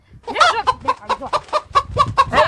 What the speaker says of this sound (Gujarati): આમાં હવાર પડે ને અલાર્મ કુકડામાં વાગે એવું કઈ થાય